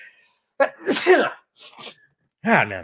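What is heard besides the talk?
sneeze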